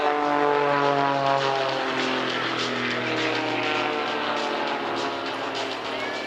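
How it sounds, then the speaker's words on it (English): A propeller aerobatic display plane at a seaside airshow drones steadily and loudly overhead, its engine pitch sliding gradually as it tumbles and dives between manoeuvres. "hanging the aircraft on the prop as he then tumbles down, gaining some airspeed, ready to pull it into the next manoeuvre"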